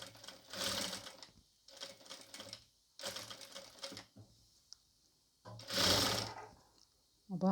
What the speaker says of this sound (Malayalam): ലൈസ് വെച്ച് കൊടുക്കുമ്പോൾ നമ്മൾ ആ പീസിൻ്റെ അരികെ വശത്ത് കൂടി ചേർത്തിട്ടാണ് തയ്ച്ചു കൊടുക്കുന്നത്